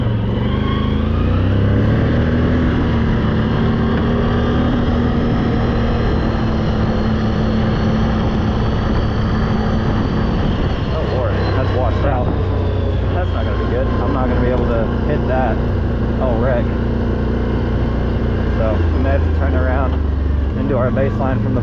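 A Can-Am off-road vehicle fitted with a new clutch kit drives along, its engine droning loudly and continuously with shifting pitch as it moves, with a voice talking over it.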